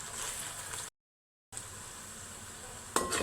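Ginger garlic paste sizzles in a pan with frying onions and green chillies for a chicken curry: a steady, bright hiss cut by a brief moment of silence, then a sharp clink near the end.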